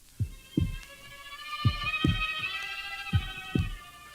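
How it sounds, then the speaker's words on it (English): Slow, steady heartbeat thuds, about seven low dull pulses in pairs, laid over a sustained eerie droning tone in a dramatic audiobook of Poe's The Tell-Tale Heart. "But for many minutes, the heart beat on."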